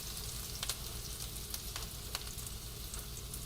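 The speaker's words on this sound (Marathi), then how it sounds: "हा कांदा टाका, तेल आपलं तापलेलंच आहे." Onion sizzles steadily in hot oil for Bhopli Mirchi Rassa Bhaji, a constant close frying hiss with a few faint clicks of stirring and no talking.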